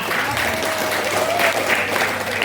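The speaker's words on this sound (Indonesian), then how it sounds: "Aplaus untuk Bapak Ibu semua." A seminar audience applauds in a steady, dense wash of clapping that holds at an even level for the whole stretch, with no voices standing out above it.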